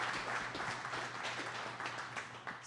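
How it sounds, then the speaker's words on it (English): A crowd applauds the cross-country team at a Chicken & Pickle show, moderately loud, scattered clapping with individual hand claps standing out over a low steady hum, lasting a few seconds. "Let's give another round of applause for the cross-country team."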